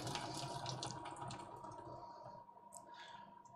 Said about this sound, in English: let's drain this pasta. So I'm going to hold this over the sink, put the lid at an angle, and just pour it all out.